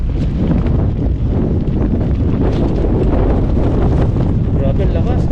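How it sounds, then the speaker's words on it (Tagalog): Strong wind roars steadily across the microphone on a rocky seashore during fishing, a loud, unbroken buffeting rush with no pauses. "Grabe ang lakas ng hangin."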